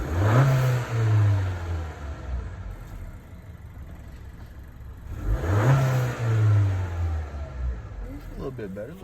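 A Honda Accord Sport engine fitted with a K&N drop-in air filter revs twice, each rise and fall close by and loud, with a steady running hum between the bursts.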